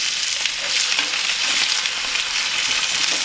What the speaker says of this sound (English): So we're just gonna let these steaks sear away here for about 4 minutes.